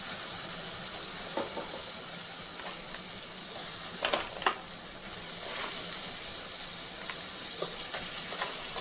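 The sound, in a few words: sea crab pieces sizzling in oil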